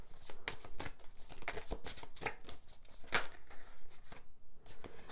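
A deck of tarot cards being shuffled by hand, with a steady run of quick riffling and slapping card sounds that stays close and fairly loud for the whole stretch, with no talking.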